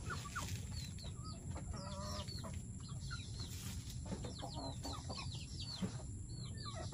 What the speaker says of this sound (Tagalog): Andito yung mga dayong manok dito yung maliliit tsaka yung inahin ayun sa labas.